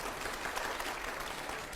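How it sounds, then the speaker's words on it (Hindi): Short burst of audience applause cued between questions on a political interview show, steady dense clapping that fills the whole moment. "अगले सवाल की तालियां जोरदार तरीके से"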